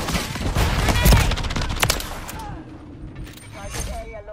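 Rapid bursts of gunfire in the Modern Warfare 3 video game on the Shipment map, loud and dense through the first half, then thinning out, mixed with faint game voices.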